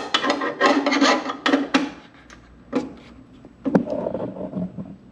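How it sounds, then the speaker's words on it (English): A 5/16 nut driver turns a bolt loose on a Speed Queen vertical coin-operated washer, giving short rasping, scraping bursts of metal grinding against metal. The bursts come in an uneven series and stand alone, with no talk over them. "we're gonna use a 5/16 nut driver to remove this bolt"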